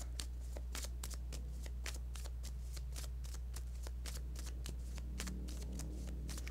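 A tarot card deck being shuffled close up in a quiet room, a steady run of crisp riffling bursts repeating throughout over a low constant hum, with no talking.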